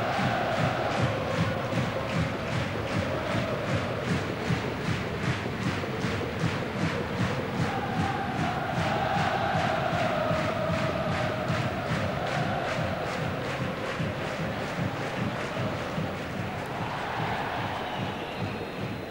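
A stadium crowd at a 1996-97 German football match between 1.FC Kaiserslautern and Eintracht Frankfurt gives a Danish player special applause, a broad sustained roar of clapping and cheering lasting throughout, with a commentator's voice over it.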